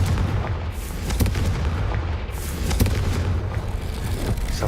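A Confringo blasting spell detonates in Hogwarts Legacy, loud booming impacts and rumbling blasts layered over a heavy, continuous low roar.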